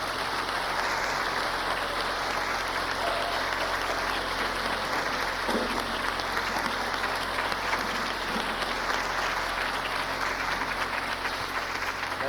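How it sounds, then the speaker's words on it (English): Sustained hand clapping from a standing audience at a university gospel concert, a dense, steady wash of applause lasting throughout with no voices on top. "I'm going to ask you to just stand and give her a hand clap for me"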